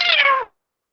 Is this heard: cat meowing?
yes